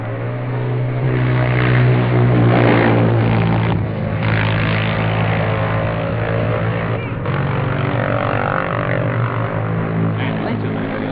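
A Norton 350 racing motorcycle at the 1959 Junior TT on the Isle of Man gives a loud, steady, droning engine note with slight shifts in pitch, sounding like an old, muffled recording.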